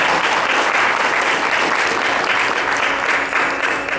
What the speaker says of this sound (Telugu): చిన్నారులు ఇద్దరికి ఒక్కసారి క్లాప్స్ ఇవ్వండి.